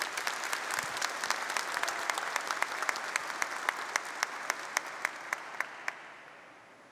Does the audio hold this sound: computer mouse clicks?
no